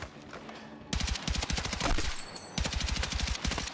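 Bursts of rapid automatic DRS rifle fire from Battlefield 6, sharp evenly spaced shots in two long strings separated by a brief lull, loud and close with no talking.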